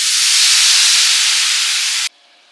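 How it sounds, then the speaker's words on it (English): Meat stock with some fat poured into a hot pan of spiced lamb gives a loud, steady steam hiss that holds for two seconds, then cuts off abruptly to near quiet. "I'm going to add some meat stock"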